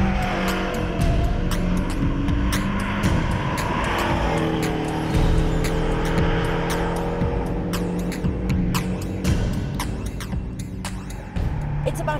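A 2018 Porsche Boxster 718 GTS with a PDK gearbox drives through a corner, its engine droning loud and close as revs climb and ease, with brief sharp ticks throughout.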